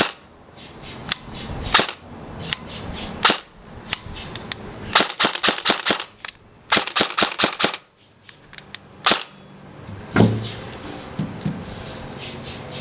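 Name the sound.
airsoft DMR rifle firing semi-automatic, trigger held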